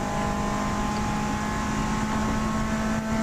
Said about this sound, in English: Paul Savage car comes through